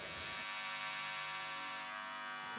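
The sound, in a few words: amplified electricity buzzing, humming sound in art installation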